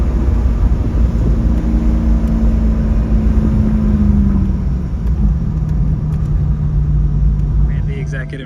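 Corvette cruising on the road, a steady loud rumble of engine and tire noise from inside the car, holding a constant drone throughout.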